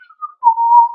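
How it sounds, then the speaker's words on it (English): A person whistling a short tune, two clear pure notes, the second longer and steadier, close and alone with no other sound. "That's you walking with your little swagger and whistling a tune"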